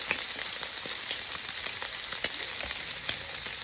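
Shrimp sizzling steadily in a hot pan, a dense, even hiss with faint crackles and pops throughout, close and uninterrupted by talk.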